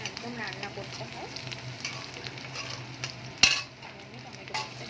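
Sankor fish frying in a pan as a meat-style curry, a steady close sizzle with occasional stirring and one sharp clatter of a utensil near the end; no voices.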